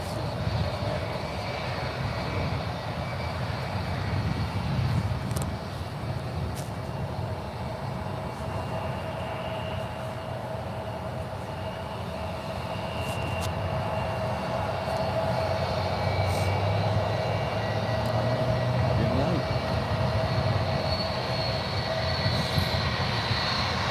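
An airliner landing at San Francisco airport, a steady, distant roar of jet engines and rumbling wind noise holding evenly for the whole stretch with no voices.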